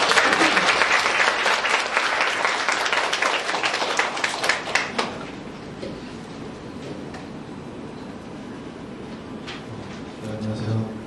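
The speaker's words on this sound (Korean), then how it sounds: "박수로 맞아주세요" An audience applauds to welcome a magazine editor-in-chief onto a stage at a creative-group talk event, loud sustained clapping for about five seconds that then fades to a quieter room with faint murmurs.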